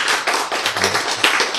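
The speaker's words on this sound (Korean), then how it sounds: "박수!" Applause from a lecture audience, a dense continuous patter of clapping hands filling the whole moment at steady, fairly close loudness, with no talk over it.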